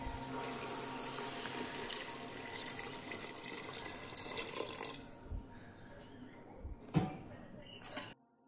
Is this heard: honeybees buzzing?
no